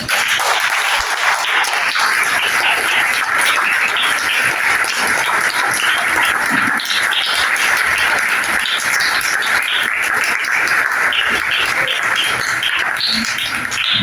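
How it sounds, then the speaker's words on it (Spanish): Church congregation giving loud, continuous applause for the mothers, a dense, even wash of clapping lasting the whole stretch without letting up. "quiero que les demos un fuerte aplauso a las mamás"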